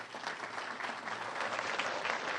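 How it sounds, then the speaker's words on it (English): An audience at a crime-statistics announcement applauds U.S. Attorney Rod Rosenstein, a thick continuous patter of many hands clapping together that holds steady and slightly swells toward the end, with no speech over it. "Can we give him a round of applause?"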